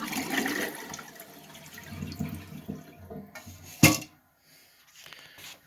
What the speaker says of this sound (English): then I'm going to flush to let the water out